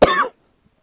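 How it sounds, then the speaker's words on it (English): A single short, loud cough close to the microphone, a sharp burst that cuts off quickly into silence. "excuse me, I have to cough."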